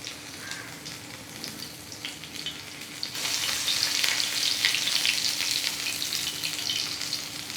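Kabab patties fry in oil over a low flame for Mumbai-style kabab pav, giving a steady, dense sizzle that swells louder and brighter halfway through and then holds, with no voices present.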